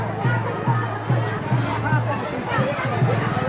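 Crowd chatter at a riverside Durga puja kalash yatra gathering, a dense babble of many voices close by, steady and loud with overlapping talk throughout.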